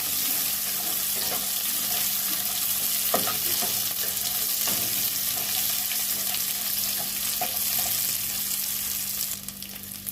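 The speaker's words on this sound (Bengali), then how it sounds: "কাজু কিশমিশগুলো ভাজা হয়ে গেছে" Cashews and raisins frying in a pan, a continuous bright sizzle with occasional scrapes and taps of a stirring utensil, close and steady with no talking.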